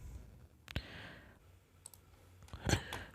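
A computer mouse gives a few sharp, faint clicks spaced apart while someone works in statistics software, with quiet room noise between them and no talking.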